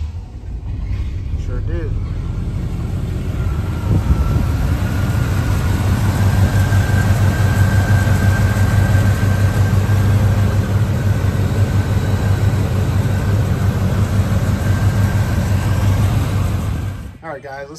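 A stock 1987 Chevrolet Monte Carlo Aerocoupe with a 305 V8 runs at a steady, loud, close idle with a deep low rumble, and a brief spoken reply comes over it near the start.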